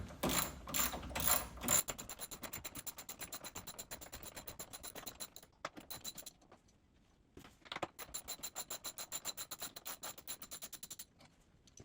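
A socket ratchet loosens the leg bolts on a Jurassic Park Premium pinball machine, giving long runs of rapid, close metallic clicking broken by brief pauses and handling noise.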